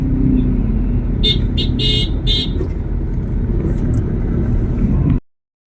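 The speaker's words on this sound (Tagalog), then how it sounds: "yun ang traffic na nagpapahirap sa akin kanina" Loud road traffic in the Philippines rumbles close by while several short car horn toots sound in quick succession, then the noise cuts off.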